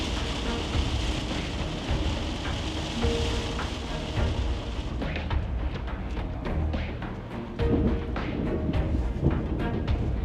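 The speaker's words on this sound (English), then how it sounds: "Thunder pop." Thunder cracks and rumbles through steady rain drumming on a van, with sharp pops in the second half over constant dense rain noise.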